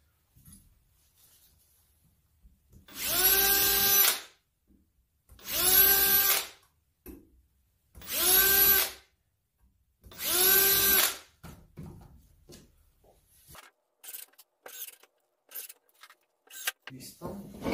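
A power drill drives screws into a wooden folding table with an integrated wine holder and snack tray, four loud close bursts of whirring of one to two seconds each, separated by pauses, followed by quieter handling clatter.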